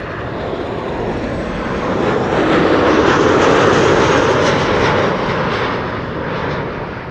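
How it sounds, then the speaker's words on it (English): A Transavia Boeing 737-800 jet comes in to land, its engine roar swelling to a loud peak mid-pass and then easing off slightly, heard alone without speech. "Not with an A321neo, but with a 737-800, flight 6144."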